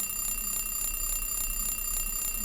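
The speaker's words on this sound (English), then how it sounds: "Will you turn off the alarm?" A Silent Hill 3 alarm rings continuously, a loud, high electronic tone pulsing in a fast, even rhythm with no pauses and no speech.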